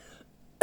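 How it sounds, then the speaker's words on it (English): A single sharp cough from someone with a bad cold bursts out loud and close at the very end, after near silence. "I'm sorry if I'm coughing"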